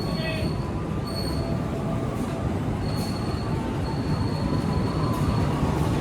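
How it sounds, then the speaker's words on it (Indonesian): Two economy-class passenger trains, New Image and New Generation coaches on the KA Majapahit service, rumble past each other with a dense, steady roar of wheels on rail, punctuated by sharp metallic wheel squeals that come and go throughout. "Pertemuan dua kereta ekonomi ya, New Image dan New Generation."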